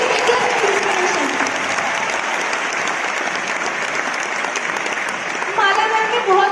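Loud, sustained applause from an audience at a Forever Living Products network marketing event, clapping steadily and densely throughout with crowd noise mixed in.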